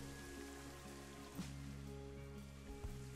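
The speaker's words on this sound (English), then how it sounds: "I'm gonna turn off the rain." Steady rain falls in the zoo-building video game Planet Zoo, a soft continuous patter over a low tonal music bed, with a couple of faint brief knocks.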